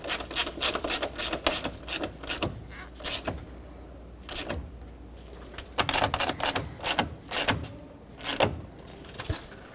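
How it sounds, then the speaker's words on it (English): Metal bolts are threaded and tightened by hand to mount the radiator fan on a 2009-2013 Honda Fit, heard as close, irregular bursts of scraping, clicking and ratcheting separated by short pauses. "Now take this fan, slide it down, put in the two mounting bolts."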